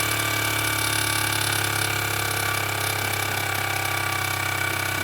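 A Jensen 60EL electric live steam engine with ball bearings, run on household power through a variac, makes a steady close mechanical whir and ratcheting clatter that carries on without a break.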